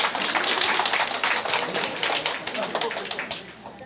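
Lecture audience at a weekend Korean tax-law seminar clapping at the close of the session, a dense steady patter of many hands that gradually thins and softens toward the end.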